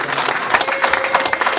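Clapping from a crowd at a Rwandan traditional celebration, dense irregular hand claps close and loud throughout the short stretch.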